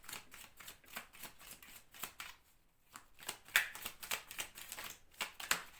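Tarot cards riffled and shuffled in a quick, rhythmic flurry of crisp flicks close by, briefly pausing before more card snaps and slides resume, with no voices over the shuffling.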